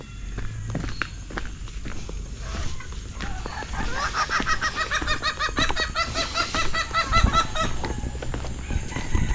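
Many chickens cluck together in a dense, busy chorus that swells and stays steady, with shuffling footsteps nearby, in rain.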